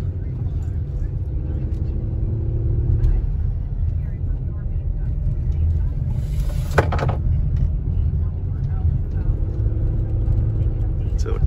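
A 2010 Ford Flex drives slowly around a parking lot, its engine and road noise forming a steady low rumble heard from inside the cabin, with a brief sharp clatter midway.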